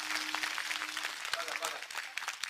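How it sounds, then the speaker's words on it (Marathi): Audience clapping at a comedy kirtan in a village near Nashik, a dense burst of hand claps running under a talking voice for a few seconds. "म्हणून टाळी वाजवा."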